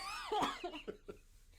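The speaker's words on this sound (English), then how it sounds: "After a coughing attack," A short fit of close coughing, one strong cough followed by a few weaker, fading hacks.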